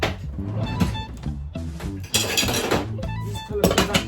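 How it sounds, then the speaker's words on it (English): Metal pot lids clatter and clink against a pan in several quick bursts, close by, with background music underneath. "I'm gonna put a lid on this one"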